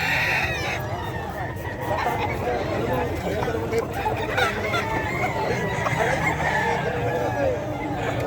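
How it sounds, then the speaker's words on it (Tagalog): Kanawayan gamefowl roosters at a pet market crow repeatedly, several birds overlapping with clucking amid constant crowd chatter and nearby talking. "Puro kanawayan ang dala niyang manok dito, guys."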